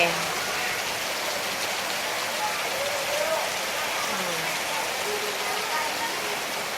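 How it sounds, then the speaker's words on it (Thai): Steady rainfall hisses on a surface, a dense even wash of drops, with faint sounds drifting underneath. "ฝนตกลงมาชาวนาดีใจ จะได้มีข้าวกิน"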